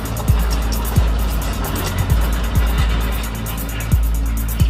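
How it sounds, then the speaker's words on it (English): A bulldozer with a two-shank ripper tears up rocky earth, its engine a steady, loud, low rumble with occasional short grinding dips that recur every second or so. "Listen, can you hear it scraping against the rocks as it tears up the earth?"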